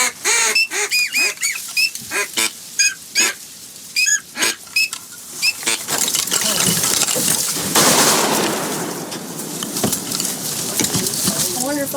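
Ducks fly in during a duck hunt, giving a string of close, repeated nasal quacks and honks that fade into a broad rushing noise in the second half.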